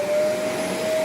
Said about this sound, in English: See, I know how to vacuum.